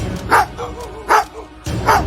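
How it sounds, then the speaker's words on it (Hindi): A dog barks loudly three times, each sharp bark spaced with short pauses between them, close by. "फिर उन्हें देखकर जोर जोर से भौंकने लगा"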